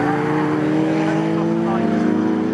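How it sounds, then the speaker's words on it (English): A Morgan race car engine droning at a steady high pitch during a race at Snetterton, a sustained loud whine from the car on track with a faint voice over it. "And the car sounds okay."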